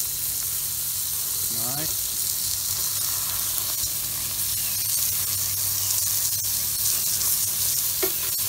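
Burger patties sizzle loudly and steadily on a Watchman stove, a dense close frying hiss throughout, with a brief scrape and a single spoken word over it.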